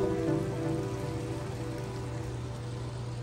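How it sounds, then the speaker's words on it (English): Rain falls under clear skies near sunset, a soft, steady patter throughout, with a faint constant hum beneath it. "It's raining under perfectly clear skies right now."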